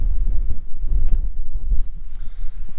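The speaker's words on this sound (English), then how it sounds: "it's a little bit windy" Strong wind gusts across the mic beside a tarn in the Lake District, giving a loud, continuous low rumble and buffeting that barely lets up, with no voices.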